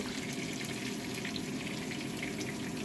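Eggplant frying in oil in a wok, a soft continuous crackle and hiss that holds steady and faint without talk.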